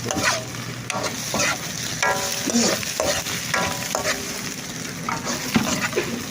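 Noodles cooking in a pan during a Nepali-style breakfast preparation, with steady sizzling and stirring scrapes throughout, a faint voice briefly audible in the background.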